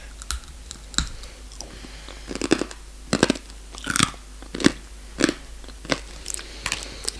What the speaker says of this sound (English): You have to at least give it a few bites, remember?